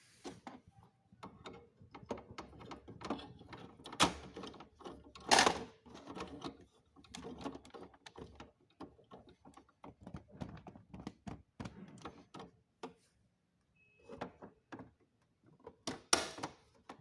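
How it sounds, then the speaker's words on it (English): HP Deskjet printer being shut after an HP 680 ink cartridge is reinserted, giving a scattered series of faint plastic clicks, ratcheting mechanism noises and a few sharper thunks, close by in a quiet room. "So now I have put the cartridge back and we will close it."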